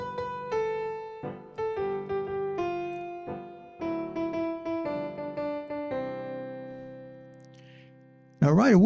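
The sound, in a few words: piano playing a melody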